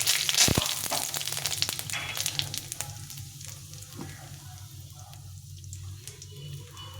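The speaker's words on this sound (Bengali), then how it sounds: "এখানে একটা তেজপাতা ভালো করে দিয়েছি আর একটু আস্ত জিরা দিয়ে এটাকে ভালো করে ফোড়নটাকে একটু ভেজে নিতে হবে" A bay leaf and whole cumin seeds fry in hot oil in a pan, giving a steady close sizzle with small crackles and pops, louder at the start and easing slightly.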